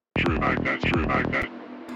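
A short bit of speech sounds thin and band-limited, like a voice heard through a telephone, with faint hum after.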